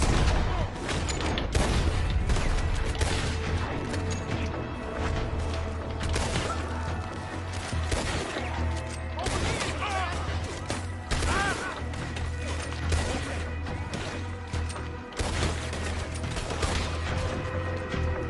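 Repeated gunshots ring out in Red Dead Redemption 2, with sharp cracks at irregular intervals over a rumbling game soundscape. The shots are loud and close, scattered across about eighteen seconds.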